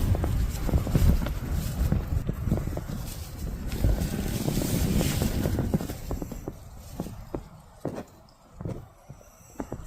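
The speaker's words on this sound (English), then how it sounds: "I know it's windy" Gusty wind buffets the microphone outdoors, rumbling and roaring with scattered knocks and rattles, easing toward the end.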